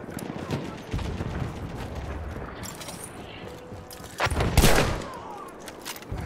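Dense gunfire rattles through a Battlefield 1 match on the Heligoland Bight map, with overlapping bursts and shots that swell into a heavier, louder volley partway through.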